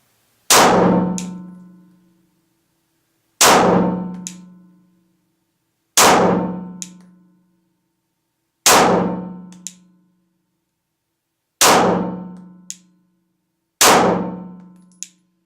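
Six Glock 17 Generation 2 pistol shots fired at a slow, even pace, each a sharp, loud crack with a ringing, metallic decay, separated by silence.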